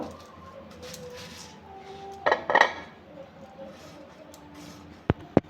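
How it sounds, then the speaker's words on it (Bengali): A knife cuts a peeled mango for a sweet mango mash, heard as quiet close chopping taps against a plate, with a louder clatter of dishes partway through and two sharp clinks at the end. "আমটা খোসা ছাড়িয়ে নিয়েছি, এবার কেটে নেব।"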